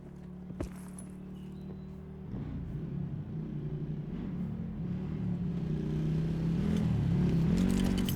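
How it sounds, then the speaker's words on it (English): A low car engine rumble in Call of Duty: Black Ops 4 drones steadily and grows slightly louder, with a sharp click early on and fluctuating revving hum throughout. "Cars are really loud."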